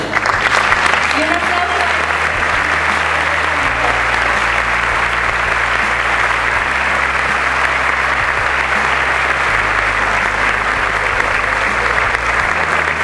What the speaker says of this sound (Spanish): quiero cada uno de nosotros nos demos un aplauso por estar aquí